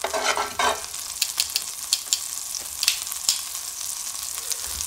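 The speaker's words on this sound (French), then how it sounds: "On attend que le beurre soit fondu. Que le beurre est fini de chanter, comme on dit." Butter melting in a pan for a traditional rabbit saddle dish, sizzling steadily with a bright crackle and scattered sharp pops, close and fairly loud with no talk.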